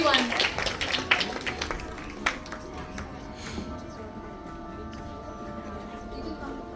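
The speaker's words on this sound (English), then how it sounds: "Can we have a big round of applause for Lysipriya, everyone?" Scattered applause from a school audience in a hall, a burst of individual claps at first that thins out into a few sparse claps and fades to quiet room noise.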